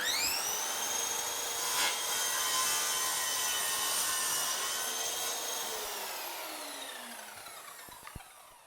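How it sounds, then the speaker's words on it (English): A power saw cutting the nose and tail off a recycled wooden skateboard, a loud, high whining rasp through the wood that slowly winds down at the end. "once we've peeled off all the grip tape, we cut off the nose and the tail"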